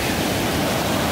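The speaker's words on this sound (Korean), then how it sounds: "뱀사골의 꼭대기에 거기에 엄청난 깊이의 폭포를 가집니다." Deep waterfall in Dalgung Valley at Baemsagol on Jirisan mountain, a steady loud broadband rush of falling water filling the short moment without pause.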